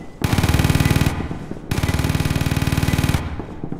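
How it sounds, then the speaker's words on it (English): Long bursts of rapid automatic gunfire in the tactical shooter game Due Process, two sustained loud strings of shots separated by a brief gap, close and dominant with no talk over them. "That's Josh shooting through."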